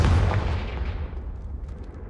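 Hogwarts Legacy's Confringo spell detonates as a single heavy, booming blast that rolls off into a fading rumble over about two seconds, loud and close with no talking.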